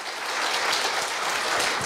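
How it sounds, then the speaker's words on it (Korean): A brief burst of full, even clapping from the audience at a Korea University staff retirement ceremony, heard on its own without speech. "다시 한번 큰 박수 부탁드리겠습니다"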